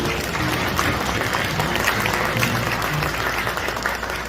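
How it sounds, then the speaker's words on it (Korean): Wedding guests in a Korean ceremony hall give a big round of applause, dense continuous clapping filling the room for several seconds. "여러분 큰 박수 부탁드립니다."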